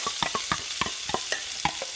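Half a stick of butter and olive oil sizzling in a pan, a steady bright frying hiss broken by quick clicking stirs or spatters at an irregular pace.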